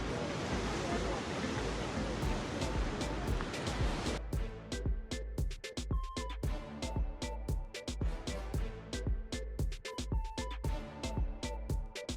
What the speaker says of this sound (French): Des belles vagues, très beau.